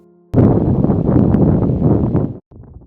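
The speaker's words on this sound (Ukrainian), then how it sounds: "вітер спопиляє все на своєму шляху. Лиш послухайте оригінальний запис звуку із цього місця." Strong hot desert wind in Death Valley buffets the microphone in a loud, rough roar for about two seconds, then cuts off abruptly.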